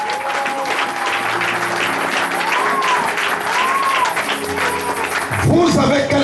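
A church congregation cheers and applauds the Lord in a dense, steady wash of clapping and voices, with sustained keyboard-like tones ringing through and a louder swell near the end.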